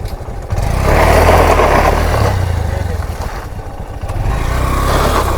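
A motorcycle on a rough, difficult trail, its engine revving steadily while the rear wheel slips: a continuous throaty drone that rises and dips, with voices talking over it.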